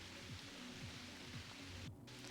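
Steady rain falls outdoors at an archery youth competition in Catez, a soft constant hiss with faint low rhythmic thumps underneath, no voices.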